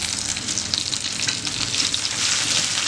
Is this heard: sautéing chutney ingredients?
yes